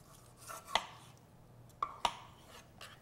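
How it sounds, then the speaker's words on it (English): Knife strikes on a cutting board as beets are quartered in a home kitchen, a few sharp, isolated chops spaced apart over a faint background hum. "We're going to take our beets, and I'm just going to quarter them up and put them in a bowl while Adam's slicing that flank steak."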